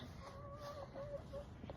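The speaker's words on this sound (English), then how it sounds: "She's my oldest hen." An Ameraucana hen clucks softly in short, tonal calls spread across a couple of seconds, over a steady background hum.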